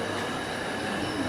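The Bijoy Express passenger train, hauled by locomotive 2926, runs at Kishoreganj railway station in Bangladesh with a loud, steady rumble and rolling wheel noise, and no talk.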